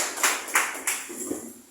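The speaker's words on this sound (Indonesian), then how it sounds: "Tepuk tangan untuk kita semua" An audience applauds at an October 2024 dissemination session: a few sharp, separate claps ring out near and loud, then fade quickly.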